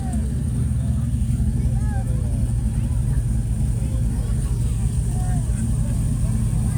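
Classic cars fire up together at a Fourth of July car show, filling the air with a dense, continuous low engine rumble and idle, while people talk nearby over the noise.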